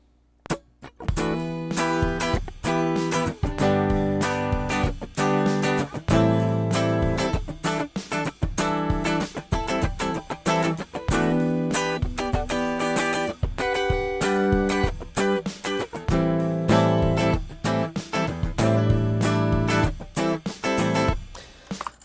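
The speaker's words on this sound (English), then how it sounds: "So that is the sound of my raw guitar." Raw, unprocessed electric guitar played dry with no amp, strumming steady rhythmic chords and short choppy notes for about twenty seconds at a fairly loud, even level with no voices.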